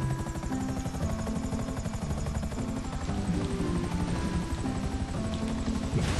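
A helicopter in the video game GTA 5 drones loudly and continuously, its rotor chop and engine whine filling the whole stretch without any voices over it.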